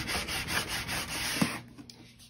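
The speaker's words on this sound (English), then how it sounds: "I'm going to take my sander and distress this up a little bit" Sander distressing an upcycled wooden piece, a close rough rubbing hum for about a second and a half that then stops, leaving a few faint knocks.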